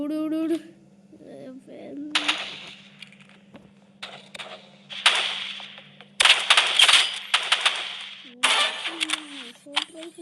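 Bursts of assault rifle fire in the Roblox game Rivals, loud and broadband, coming in several sustained volleys with short gaps, while a person's voice is heard at the start and end.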